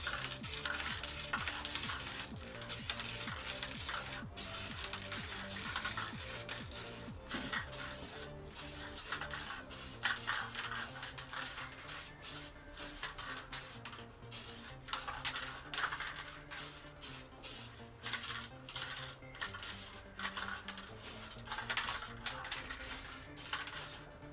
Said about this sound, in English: Great company for spray paints.